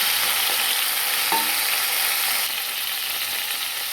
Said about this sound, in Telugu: ఇదే ఆయిల్లో టమాటా ముక్కలు వేసేసుకొని బాగా మెత్తగా వేసుకోవాలి